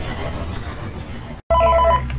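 A telephone rings in the horror video game Five Nights at Freddy's 3, a loud electronic ring that starts abruptly after a brief cut to silence, over a low droning game ambience.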